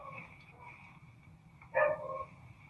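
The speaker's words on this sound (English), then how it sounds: "That is not my dog barking." A single dog bark rings out at a distance, faint and muffled beneath a low murmur of background noise.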